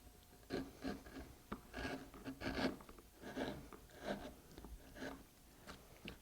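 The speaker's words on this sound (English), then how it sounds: "I can come in here using my round deep gouge to form this curve" A round deep gouge cuts a curve into a wooden linen-fold panel, making a series of close, rasping strokes in an uneven rhythm with short pauses between passes.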